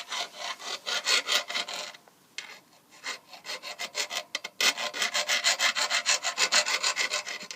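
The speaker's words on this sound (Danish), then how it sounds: "så skal du file den her, hvor pedalen sad på, så boremaskinen kan sidde på" Hand file rasping on a bicycle crank where the pedal was mounted, close and steady back-and-forth strokes in a regular rhythm, briefly slowing midway before resuming.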